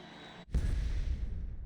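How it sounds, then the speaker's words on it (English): A sudden deep explosion in the game Reverse: 1999 cuts through quiet background tone, leaving a heavy, rumbling low boom that stays loud to the end. "And then an explosion."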